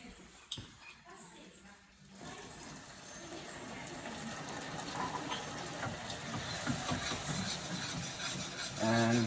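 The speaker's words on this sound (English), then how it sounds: "So what I'm gonna do is put just a splash of more water." A splash of water is added to hot orange-liqueur caramel for a Grand Marnier chocolate flan. It makes a rising, bubbling hiss and sizzle that builds and continues close by, with a voice heard briefly.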